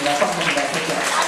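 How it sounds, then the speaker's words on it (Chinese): Sixth-grade pupils in a primary school classroom give a brief burst of applause, a short patch of clapping mixed with chatter. "掌声鼓励"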